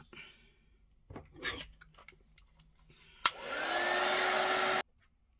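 A handheld heat tool blows steadily for about a second and a half, drying ink layers on tea-stained paper ephemera. Soft handling clicks and taps come first, and the blower cuts off abruptly.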